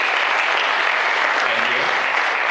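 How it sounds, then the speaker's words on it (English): Audience applause at a primary school leaving ceremony, a dense steady clatter of many hands clapping throughout, fairly loud and even, with faint voices mixed underneath. "Give them a round of applause."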